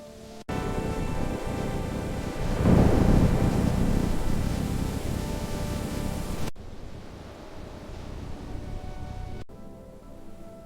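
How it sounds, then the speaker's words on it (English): A storm in a cozy animated rainy-day story: a loud, continuous roar of wind and rain that swells and then eases, cutting off abruptly before a quieter stretch of the same rushing noise. "The storm is getting stronger."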